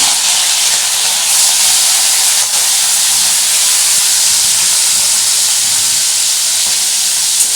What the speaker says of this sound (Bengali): তেলটা গরম হয়ে গেছে, আমি চিংড়ি মাছগুলো এর মধ্যে দিয়ে দিচ্ছি।